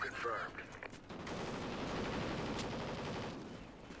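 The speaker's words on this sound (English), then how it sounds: "Were you shooting somebody, sir?" Rapid bursts of automatic gunfire in the video game Call of Duty: Ghosts, a dense sustained fusillade filling most of the moment, loud and close, with a voice faintly audible at the start.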